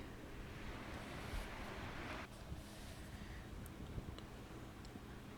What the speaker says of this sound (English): sit with me and watch the waves for a bit